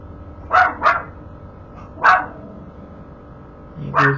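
A puppy barks outside in short sharp yaps, two quick barks, another a second later and a fourth after a pause, fairly close against a quiet indoor room.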